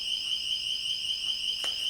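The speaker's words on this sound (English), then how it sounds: "sounds like the door alarm" A door alarm in a classroom gives off a steady, high electronic tone that sounds continuously at moderate loudness, with a brief faint noise partway through and no talking.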